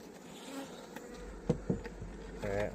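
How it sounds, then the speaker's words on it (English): Bees at an open hive hum in a steady, close buzz, with a few sharper passing buzzes and light rustling over the drone. "Just dropped a whole bunch of bees on the ground."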